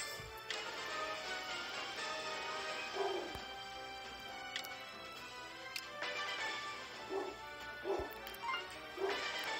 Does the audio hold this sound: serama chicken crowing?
no